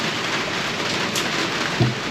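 Heavy rain pours steadily on and around a trailer at an outdoor motorcycle swap meet, a dense continuous hiss with one faint low thump near the end.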